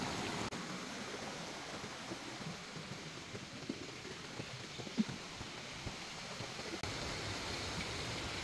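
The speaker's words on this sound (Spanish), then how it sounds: "el agua que corre por nuestros predios" Water runs steadily through a stream on rural property, a close, continuous broadband rush with no pauses and no voices.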